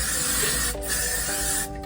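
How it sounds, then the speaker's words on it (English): Hair product sprayed onto a wig in a few close, loud hissing bursts, the first long and the later ones shorter, with no talking. "you can also spray it and get it nice and soft"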